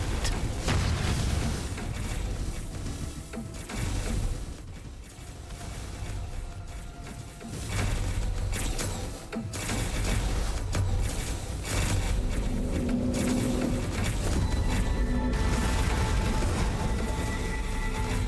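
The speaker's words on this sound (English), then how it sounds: "Ooh, I like the 3D explosion effects." Deep rumbling booms and layered explosion effects roll through a space battle in the video game Sins of a Solar Empire II, continuous and heavy over a low droning background.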